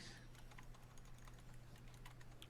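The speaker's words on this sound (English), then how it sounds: "I'm typing feverishly" Rapid clicking of computer keyboard keys being typed on, a steady flurry of keystrokes over a low constant hum, fairly quiet and without speech.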